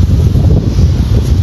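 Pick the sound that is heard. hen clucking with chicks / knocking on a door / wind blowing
wind blowing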